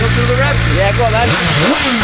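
A motorcycle engine revs loud and close at a bike gathering in Matlock Bath where emergency-services vehicles are on display, its pitch rising and falling, with voices nearby.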